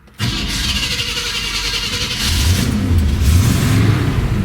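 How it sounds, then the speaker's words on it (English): A 1972 Chevy C/K Action Line pickup's 350 V8 cranks and catches within a fraction of a second, then settles into a loud, close, throaty idle that swells slightly midway. "That 350 fires right to life."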